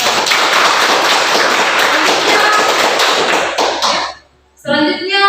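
An audience claps after a presentation, a dense, loud applause that lasts about four seconds and then stops abruptly before a voice begins speaking.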